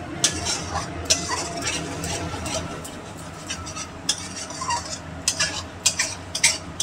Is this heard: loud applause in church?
no